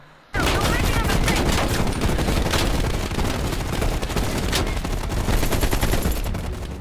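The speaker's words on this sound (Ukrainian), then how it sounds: "я далі по своїй стріляю, ну що роблю" Sustained, loud rapid gunfire fills the whole stretch, a dense unbroken barrage of shots like automatic weapons in a Call of Duty Cold War battle.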